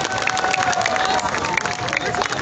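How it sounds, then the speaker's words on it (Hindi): Outdoor crowd at a rural tent pegging contest clapping and cheering, a steady dense wash of applause with scattered shouts, fairly loud and continuous throughout. "जोरदार तालियां जी"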